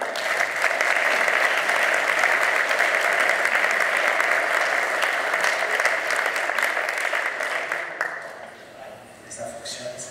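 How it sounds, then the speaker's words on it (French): A hall audience gives a long, loud round of applause welcoming a museum founder, dense clapping that holds steady for several seconds, then thins and fades near the end as the room quiets. "je vous demande de faire un tonnerre d'applaudissements à monsieur Yves Bolognini"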